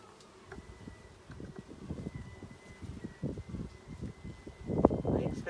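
Honey bees buzzing around an open hive during a beekeeping inspection, a steady low hum with soft rustling that swells louder toward the end.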